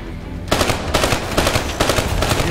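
Machine gun fire in the video game Call of Duty Black Ops 3: a sudden, loud, rapid burst of shots begins after a brief pause and continues in tight repeated volleys until the end.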